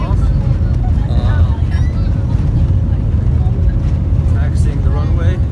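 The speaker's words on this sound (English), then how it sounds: "Taxiing the runway." Airplane taxiing along a runway before takeoff on a flight to Lebanon, heard from inside the cabin as a loud, steady low engine rumble with a faint tonal whine, continuous throughout.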